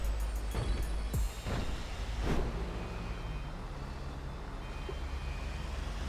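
A vehicle beeps behind a truck hauling an oversize load up a hill in GTA 5 roleplay. The beeps come as a few short bursts early on, over a steady low engine rumble.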